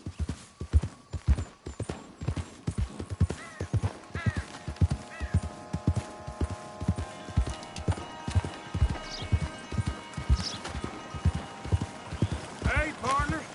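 A horse galloping in Red Dead Redemption 2, with loud, rapid, rhythmic hoofbeats pounding close throughout and faint tack jingles and a soft whinny over the steady drumming.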